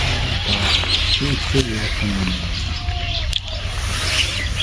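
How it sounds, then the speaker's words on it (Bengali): Flocks of migratory birds call at a waterside resort in Narail, with a few short chirps and calls rising over constant outdoor background noise. Voices can be heard nearby. "হাজার হাজার পরিযায়ী পাখির সমাহার এই অরুণিমা রিসোর্টে কি চমৎকার দৃশ্য"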